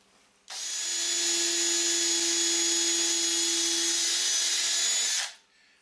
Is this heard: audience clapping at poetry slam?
no